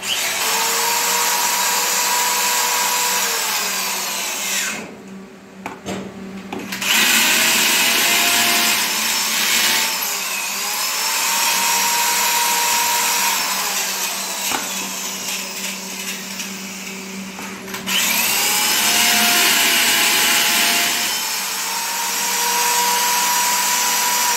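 An electric drill whirs steadily in long runs during kitchen setup work, stopping briefly twice before starting up again, loud and close.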